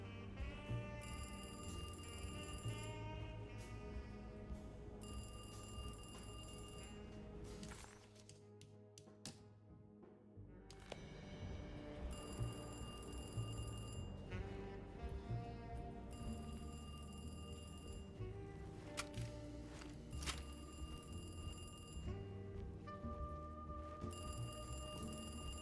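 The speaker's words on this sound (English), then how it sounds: "Ah, I could barely hear the phone." A telephone rings in the horror video game Alone In The Dark, with repeated bright electronic ring bursts in a steady pattern over a dense musical and ambient game soundtrack, fairly quiet and partly buried in the mix.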